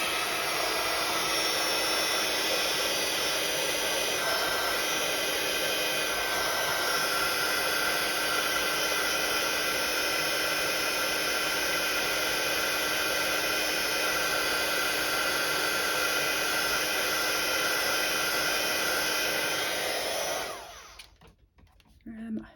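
A heat gun melts embossing powder with a steady, close, breathy hiss like a hair dryer, running evenly for about twenty seconds before it clicks off into quieter room noise.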